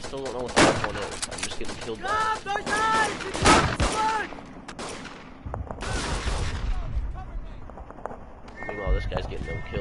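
Gunfire and machine gun fire in the First World War shooter game Verdun, loud bursts and single shots mixed with footsteps, talk over much of the stretch.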